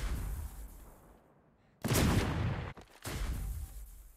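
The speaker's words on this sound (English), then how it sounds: "the auto fire is basically, as soon as you move your cursor on an enemy, it'll start shooting" Automatic gunfire in Cyber Hunter, a loud sustained burst of rapid shots starting abruptly, a short break, then another dense volley, set against a quieter rumbling background.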